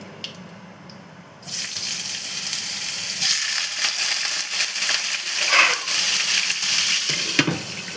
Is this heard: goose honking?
no